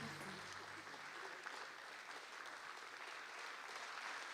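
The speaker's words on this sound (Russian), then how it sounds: "Еще раз подарим овации всех присутствующих." Audience applause fills a hall at the closing ceremony of the 16th Cheboksary International Film Festival, a steady dense wash of many hands clapping at even loudness throughout.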